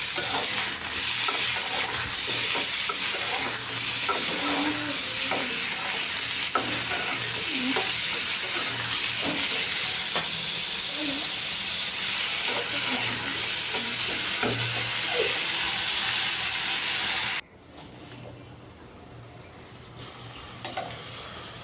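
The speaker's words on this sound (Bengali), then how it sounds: "মাছ ভাজার পর এরপরে তো আলুও ভেজে নিচ্ছি" Loud, continuous sizzling of potatoes frying in hot oil with occasional stirring clicks, cutting off abruptly to quiet near the end.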